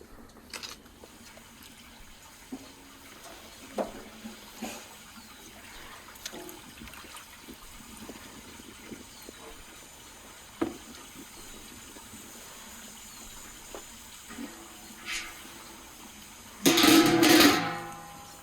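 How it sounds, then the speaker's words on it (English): Beef sausages drop into a pot of boiling water, giving scattered soft splashes and bubbling over a quiet background, ending in a louder burst of sloshing water. "it's time to drop these sausages into the boiling water"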